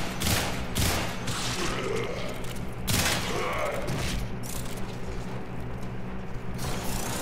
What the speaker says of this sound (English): Explosions are bad.